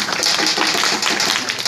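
A rally audience claps in a dense, continuous burst, loud and close, with no voices over it.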